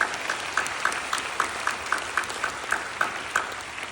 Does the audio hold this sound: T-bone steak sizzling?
no